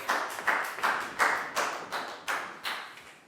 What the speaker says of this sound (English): High five, round of applause.